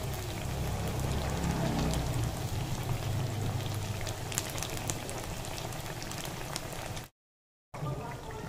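Sago pakoras deep frying in hot oil, a steady low bubbling and crackling sizzle heard close up and fairly quiet, broken by a brief silence near the end.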